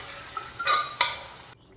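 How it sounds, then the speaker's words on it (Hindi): Boiled chickpeas go into frying masala and get stirred, giving a short sizzle and a couple of spoon scrapes against the pan, close and alone. "ये ही परफेक्ट टाइम है हमारे इसमें छोले ऐड करने का"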